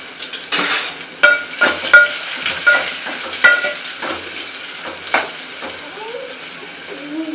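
Garlic and onion frying in a pan, with a steady sizzle under a series of sharp spatula scrapes and clinks against the metal, while voices talk quietly in the background.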